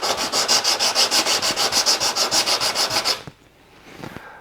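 A card scraper edge rubbed back and forth on sandpaper in a jig, about twenty even, rhythmic scraping strokes, loud and close, then stopping abruptly and leaving quiet handling noise.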